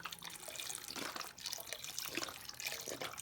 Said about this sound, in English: So you pour your stock right in there.